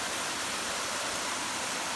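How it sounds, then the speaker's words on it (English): A steady, broadband rush of falling water, even and unbroken, like a waterfall in Killarney heard from fairly close. "Here's the top of those waterfalls."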